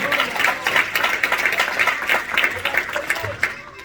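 A church congregation claps together, a dense steady patter of many hands that continues unbroken from start to finish, with some voices mixed in.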